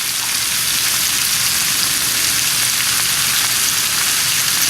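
Summer vegetables seasoned with salt and pepper sizzle in a big cast iron pan, a loud, steady, close frying hiss that runs unbroken throughout with no voices.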